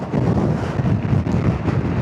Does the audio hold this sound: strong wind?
yes